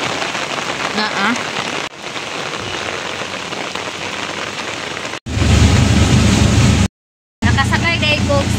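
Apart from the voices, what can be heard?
heavy rain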